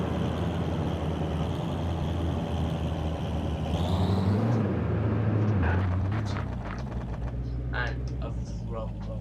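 A 2016 Bugatti Chiron engine in the video game City Car Driving: a loud, steady engine drone that rises in pitch under throttle, then settles, with a person talking over it.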